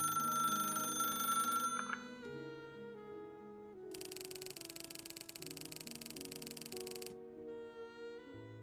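A telephone rings in a video game after a call is placed, a buzzy electronic ring tone repeating in bursts over soft background music.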